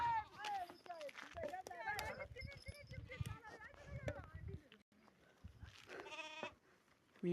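A flock of sheep moves along on foot, bleating repeatedly in shaky overlapping calls at close range, with voices talking among them and a brief lull before more bleats near the end.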